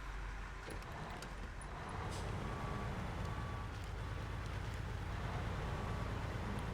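A rescue truck drives through the Snowrunner video game, its engine a steady, close, rumbling drone that grows slightly louder partway through, with no voices.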